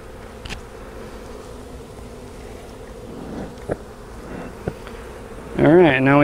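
Bees drone steadily around an open beehive, a low constant hum broken by a few faint clicks, then a louder, rising buzz of a bee passing close at the end.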